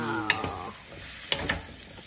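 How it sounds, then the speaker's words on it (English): Zucchini fries in a pan with a steady background sizzle. Two sharp utensil clinks and scrapes break through the hiss, and a sustained tone fades out near the start. "Look at it sizzling."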